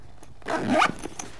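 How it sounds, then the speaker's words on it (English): A zipper closes on a Planet Eclipse GX paintball marker pack bag: one quick, close rasping pull lasting under half a second, followed by a few faint handling clicks. "Zip those back up."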